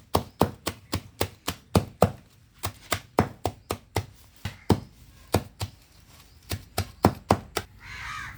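A knife chops gliricidia leaves in a quick, steady series of about two dozen crisp, close thunks, with a short pause midway and a brief rustle at the end.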